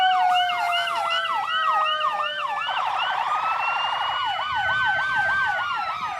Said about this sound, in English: they thought they had great seats, and then the sirens went off